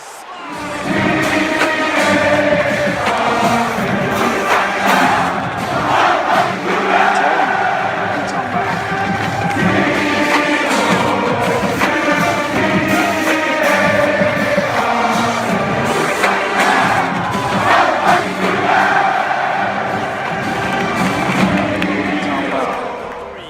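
Stadium crowd roars and cheers steadily in the College Football 26 video game, a loud, dense wall of fan noise with swells throughout, mixed with game commentary and background music.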